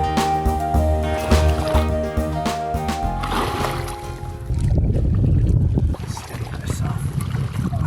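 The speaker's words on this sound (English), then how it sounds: "now I'm gonna go out to open water and just let the wind take me back" A low tonal hum gives way to rough, gusty wind rumble on open water, with faint sloshing; no clear speech.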